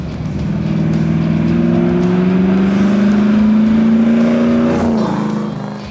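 A 1968 Chevrolet Camaro RS/SS restmod with a 498 engine drives hard, its loud, close engine note rising steadily under acceleration and then dropping briefly near the end, with no talk.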